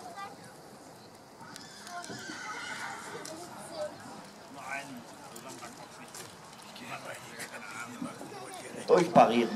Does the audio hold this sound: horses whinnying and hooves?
yes